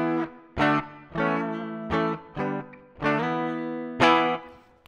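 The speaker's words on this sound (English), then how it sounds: "We're going for the plate reverb just to add a little bit of space." Electric guitar played through a Line 6 HX Stomp with a plate reverb, a series of strummed crunchy chords in a steady rhythm, each ringing out with a short spacious tail before the next.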